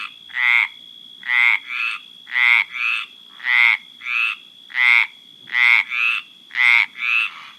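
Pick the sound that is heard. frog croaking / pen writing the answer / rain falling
frog croaking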